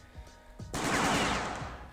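Thompson submachine gun in a Minecraft World War II mod fires one loud sustained burst of rapid, dense shots that ring out and fade, after a quiet opening.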